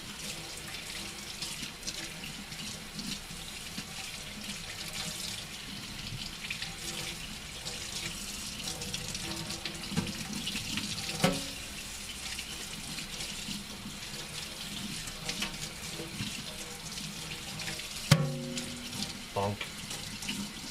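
A kitchen tap runs steadily while something is rinsed under it before going into a pot of turkey noodle soup, a constant close splashing stream with occasional clinks and knocks, and light talk now and then.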